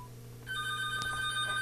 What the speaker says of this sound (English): Here, let me call her phone.